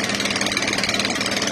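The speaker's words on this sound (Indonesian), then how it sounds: "Di sini juga motor lewat." A motorcycle engine runs steadily on the Battang Barat suspension bridge between Toraja and Palopo, a continuous mid-level drone with no pauses and no voices.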